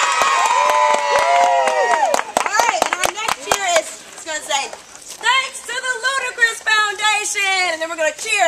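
Crowd of children cheering together at an Earth Day event, with loud shouts, a burst of sharp claps, then a chorus of high voices shouting in unison, close and lively.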